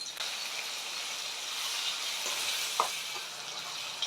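Onions and tomatoes sizzle steadily as they fry in a pan for a fish curry, with a soft continuous hiss and occasional scrapes of stirring close by, no voices.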